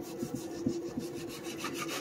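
A knife sawing through raw pork loin on a cutting board for tonkatsu, a steady rasping rub with a low hum beneath it and a few soft knocks, close and continuous, with no talking.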